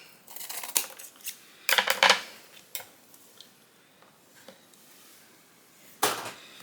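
Scissors snipping through a foam card base for a handmade Cricut card, giving a few crisp cuts in short separate bursts, close and fairly quiet, with quiet pauses in between.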